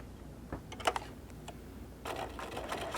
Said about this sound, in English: But we're back at the sewing machine.